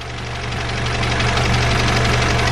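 A Volkswagen MK7 Golf R engine, fitted with new spool valves, idles close by with a steady, even mechanical hum and a faint rhythmic tick, heard alone without talk.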